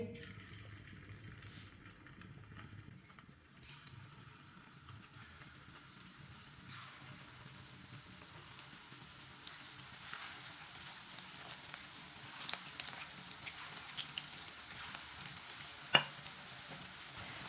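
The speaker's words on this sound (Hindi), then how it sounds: "ऑयल हमारा गर्म हो चुका है अच्छी तरह। एक एक कबाब लेंगे और डालते जाएंगे।" Raw minced-meat kebabs dropped one by one into hot oil, a faint, steady sizzle that slowly grows fuller, with a few soft clicks near the end and no talk.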